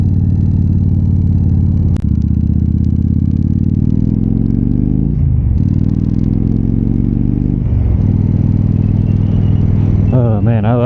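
A motorcycle in a racing video game hums along at a loud, steady drone, its pitch sliding down and back up as it shifts, with a rising rev near the end.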